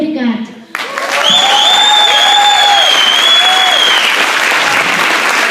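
A seated audience rises into a standing ovation, and loud, steady applause swells quickly after a brief moment of quiet and then continues evenly, with a sustained tone heard above the clapping.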